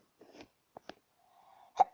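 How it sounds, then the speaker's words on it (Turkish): Soft breathy sounds build up to one sharp, loud sneeze burst at the end, close and alone. "Pardon arkadaşlar hapşırdım."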